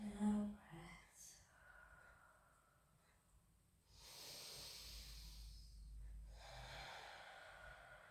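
Slow, deep breathing during a gentle pilates session: a sharp nasal snort, then long, hissing inhales and exhales, close and quiet, with no talking.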